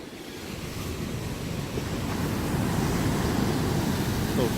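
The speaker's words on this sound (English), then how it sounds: "the water's splashing all the way up on the thing here." Ocean waves surge and splash against the rocky shore of the Canary Islands, a steady broadband wash that builds over a few seconds, with wind buffeting the microphone.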